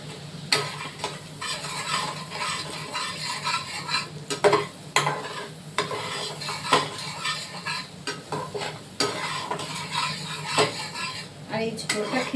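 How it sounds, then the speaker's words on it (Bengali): Fried spice paste with homemade garam masala being stirred in a pot, with repeated metallic scraping and clanking of a spoon against the pan over a soft sizzle, close up, no talking. "এই যে ভাজা মশলা একবার ভেজে পেস্ট করে আবার কষাচ্ছি"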